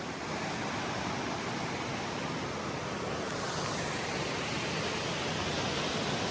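Laurel Creek on the Appalachian Trail rushes steadily, a loud, continuous broadband wash of flowing water close by with no voices.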